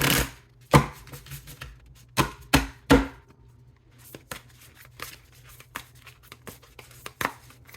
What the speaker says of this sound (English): So we'll do one more good shuffle